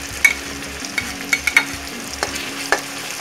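Chopped tomatoes stirred while frying in a pan for a Bengali jackfruit and prawn curry, with sharp scraping taps of the utensil at an uneven rhythm over a low, steady sizzle.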